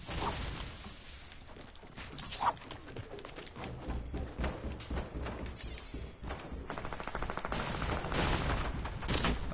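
Pistol gunfire in a PS4 battle-royale style video game, heard as a dense run of sharp shots and impacts over busy game noise, fairly loud and steady throughout with no talk.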